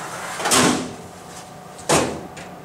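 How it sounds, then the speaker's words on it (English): An Insinger Commander 18-6 commercial dishwasher door is shut with two solid thuds, the second sharper and louder, as the wash cycle begins with a steady running hum beneath. "To simply start a cycle, just close the door and the machine will begin to run through its normal cycle."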